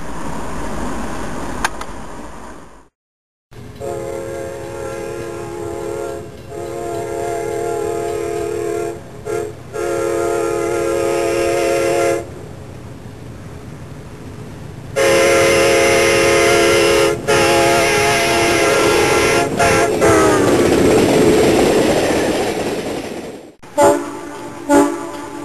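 A 90-car freight train rumbles past, with long horn blasts sounding over the steady rolling noise of the cars, loud and close.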